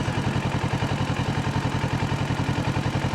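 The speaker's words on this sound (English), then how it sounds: "It's a big ass truck." A big truck's engine passes close by in traffic with a steady, pulsing low rumble and a faint clatter, loud and continuous without voices.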